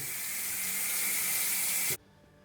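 A shower faucet turned on during a DIY washer replacement, water rushing steadily and loudly with a bright hiss for about two seconds before cutting off abruptly, leaving near silence.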